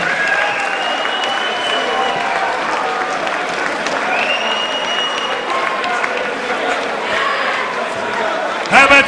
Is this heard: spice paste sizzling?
no